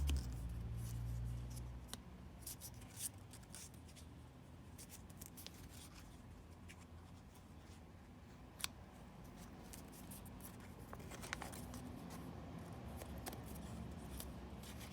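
Paper being folded into an origami mother and child sounds as soft, faint creasing and rustling, with a few sharp crisp snaps scattered across a quiet, steady background.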